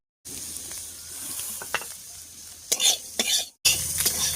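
Cumin powder being stirred into bitter gourd and egg in a hot pan: continuous sizzling under a spoon scraping and clinking against the pan, with a few sharp louder scrapes near the end.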